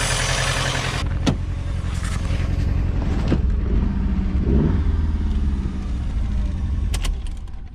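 A car engine that has sat unused for years idles with a rough, rumbling drone while fuel leaks from the rail, with a few sharp clanks and knocks over the steady running.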